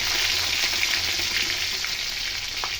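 Chopped ginger and green chili frying in hot oil, giving a loud, continuous close sizzle with faint stirring taps throughout and no speech.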